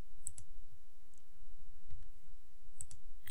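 Computer mouse clicking while editing a website, a few sharp, faint clicks spaced irregularly against quiet room background, with no talking.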